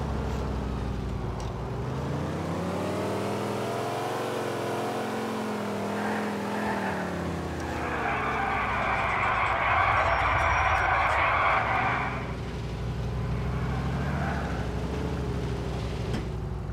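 Car engines roar during a chase in the video game GTA IV, with sustained revving that rises and falls in pitch and a louder, harsher surge in the middle, continuing throughout.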